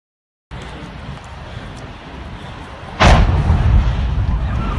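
A steady low roar is broken by a single sudden, loud explosive blast. A heavier rumbling roar continues afterward.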